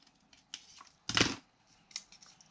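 Scissors snip through scraps of paper to cut out a small leaf shape, a few light snips and one louder, longer cut near the middle, close and alone.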